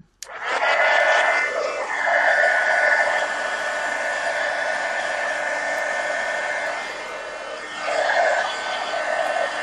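Hair dryer blowing steadily to dry thick paint splatters on a mixed-media magazine journal, switching on with a click and whirring loud and close throughout, its pitch shifting briefly as it moves.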